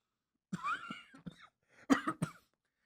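Two bursts of dry coughing from a single person, each a short cluster of harsh hacks separated by a brief pause, close and fairly quiet, with no talk around them.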